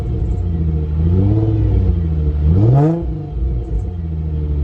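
A Toyota car engine freshly serviced with new oil, running close by in a steady rumble and rising into a single smooth rev before settling back to idle, with no talk.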